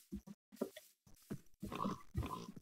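Pigs in the video game Minecraft, a few short close grunts and oinks in quick uneven bursts at low volume.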